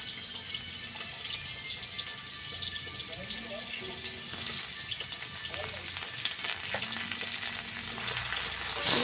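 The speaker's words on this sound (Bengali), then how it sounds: "রসুন বাটাটাকে ভালো করে ভেজে নেব" Garlic paste frying with browned onions in a pan for a home chicken curry, a steady close sizzle with occasional stirring scrapes and faint background noises.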